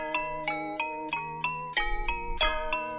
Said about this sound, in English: This is what it sounds like with halftime and the EQ.